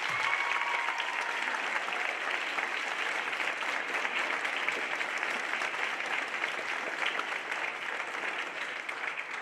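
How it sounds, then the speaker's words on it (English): An audience at a high school band concert claps for an All-State band student, a dense, even wash of applause that holds steady and loud from start to finish. "So give her a round of applause."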